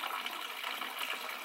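Mountain spring water pouring steadily, a continuous close splashing rush with no voices.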